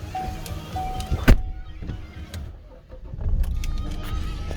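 A 2018 Holden Colorado LS Extra Cab ute is started up close by: a sharp thunk, then the engine turns over and settles into a low, steady idle with no talking.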